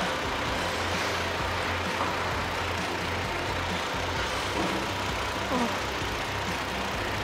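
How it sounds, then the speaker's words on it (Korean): A Hyundai Genesis Coupe 380 GT engine idles with the hood open, a steady, even low rumble holding at a constant level throughout without voices. "엔진 소리 일정하고 좋습니다."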